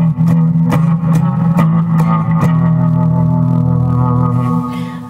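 An electric guitar plays through a Fender Mustang I on its 59 Bassman amp model with delay, sounding loud, sustained chords with a string of sharp picked attacks repeating and echoing before the notes ring out and fade.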